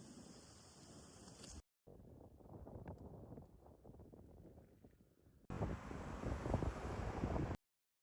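Gusty wind buffets the microphone in rough, rumbling bursts, interrupted by a brief dropout and growing louder toward the end.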